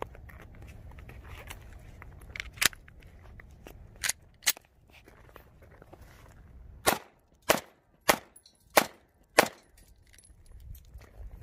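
Several sharp pistol shots from a Taurus G2C loaded with a Pro Mag extended magazine, fired at an outdoor range, with uneven pauses between them that suggest a jam, then a quicker closing string of five reports.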